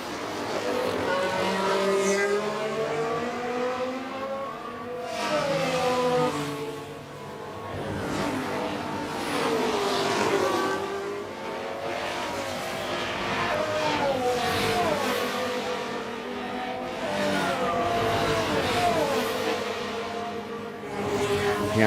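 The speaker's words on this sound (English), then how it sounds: "Chasing down Alex Albon, so getting a nice little slipstream from him" Formula 1 cars race in F1 Manager 24 at the Austrian circuit, their high-pitched engines whining and rising and falling continuously as they pass, steady and fairly loud for over twenty seconds without talk.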